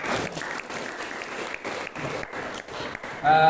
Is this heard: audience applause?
yes